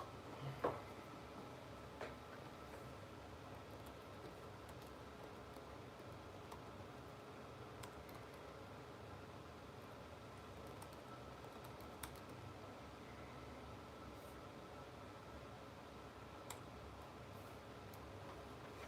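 Keys tapped on a computer keyboard while a web link is entered, a quiet, steady patter of small clicks over a low background hum, with no talking.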